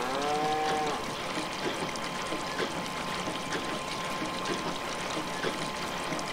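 A dairy cow in the video game Farming Simulator 19 lets out a drawn-out moo at the start, followed by a continuous trickling, watery background in the barn.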